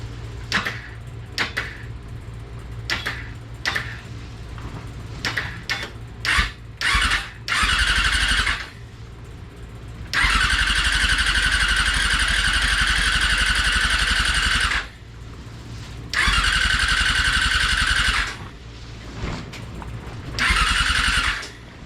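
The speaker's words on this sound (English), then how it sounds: "The reason it just went click, click at first is because it was hydrolocked" A hydrolocked 100HP Todeswagen engine gives a series of sharp, irregular clicks, then breaks into several loud, close cranking and running bursts of a few seconds each, separated by gaps.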